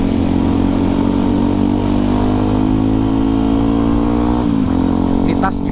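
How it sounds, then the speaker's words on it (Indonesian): A Yamaha WR155R trail motorcycle climbing a forest mountain track at night, its engine loud and close, droning with a steadily rising pitch before a brief dip like a gear change near the end. "Tapi naik gunungnya pakai motor."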